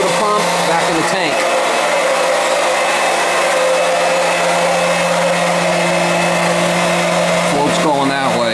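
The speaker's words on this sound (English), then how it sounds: "I can start pumping that oil into the tank" A pump sucking oil out of buckets and pushing it back into a home heating oil tank runs as a loud, steady mechanical whine and hum, continuous and close throughout, with a voice briefly audible near the start and end.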